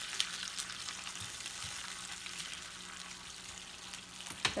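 Vegetable broth sizzles in a pan of cod sauce with tomatoes and artichokes. A soft, steady frying hiss continues throughout, with a few small pops and crackles and one louder spatter near the end.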